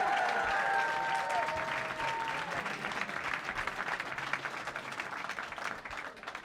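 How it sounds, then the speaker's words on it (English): A comedy roast audience claps and cheers in a steady wash of applause that holds strong, then thins a little toward the end, with a few whoops early on. "Give a cheer if it's James!"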